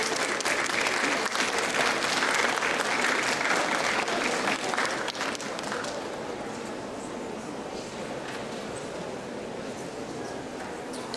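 Sustained crowd applause at a Latvian book festival event, loud and dense at the start, then easing slightly and holding steady to the end with no talk over it.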